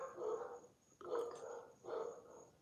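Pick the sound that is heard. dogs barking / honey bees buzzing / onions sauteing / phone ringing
dogs barking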